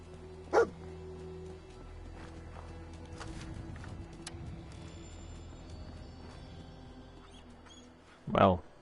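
Dogmeat the dog barking in the video game Fallout 4, two loud, sharp barks, one near the start and one near the end, over quiet game ambience with faint background sounds.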